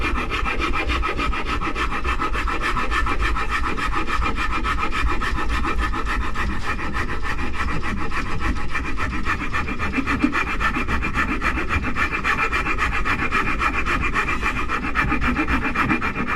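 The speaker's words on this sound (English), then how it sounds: "I'm just using the flatter part of this file now to get a nice, much flatter piece on here than on the arm curve, forearm slope" A hand file rasps across the wood of an already-painted guitar body, shaping the belly carve and forearm slope with continuous close, rhythmic scraping strokes and no pauses.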